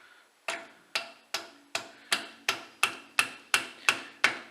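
A hammer striking a steel punch on the tow bar ball hitch of a Land Rover Discovery or Range Rover Sport, eleven sharp ringing metallic blows at an even, steady pace, close and loud with no talking.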